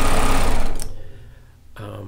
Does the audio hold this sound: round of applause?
no